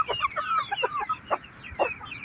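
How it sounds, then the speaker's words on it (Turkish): A broody hen clucks close by in a quick run of short, throaty calls, some rising into brief squawks. "Sonra gurk gurk diye şu şekilde ses çıkarmaya başlar."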